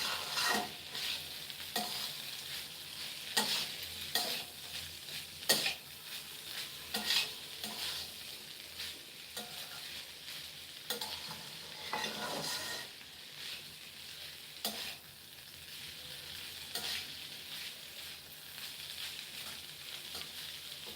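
Mola fish with cabbage and cauliflower stems stirred in a frying pan: a steady sizzle of frying runs throughout, broken by repeated scraping strokes of a spatula, fairly close and with no voices.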